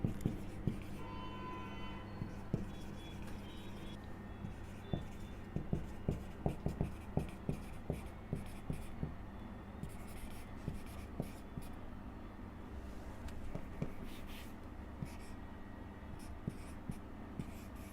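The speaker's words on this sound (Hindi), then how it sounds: "मैं इसी सेट को सेट बिल्डर फॉर्म में लिख के बताती हूँ।" A pen or marker writes out a maths set in set-builder form, with soft scratching strokes and small taps at a close, quiet level, with no talk.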